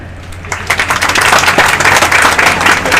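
A school audience applauds at a golden jubilee session, the clapping swelling quickly into a steady, dense burst that carries on loudly to the end.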